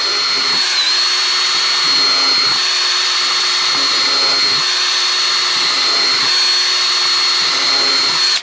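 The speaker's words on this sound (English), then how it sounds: "I just pre-drilling the existing holes there." A power drill drilling holes in a bucket whines steadily and loudly throughout, with its pitch dipping briefly several times as the bit bites in.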